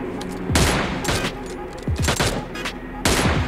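Bursts of gunfire from the PUBG Mobile Lite video game crackle loudly in quick volleys, with several rapid shots clustered together and brief pauses between them.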